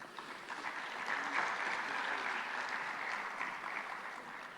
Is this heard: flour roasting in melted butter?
no